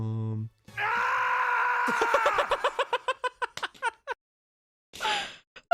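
A man screams in a long, strained cry from a played clip. It breaks into rapid gasping pulses and then stops, with a short burst of talk near the end.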